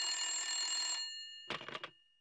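Cartoon telephone bell ringing in a steady, loud electronic trill for about a second, then silent, followed by a short burst of brief chirps; no one talks.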